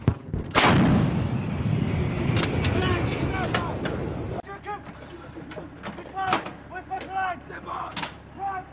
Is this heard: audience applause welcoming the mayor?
no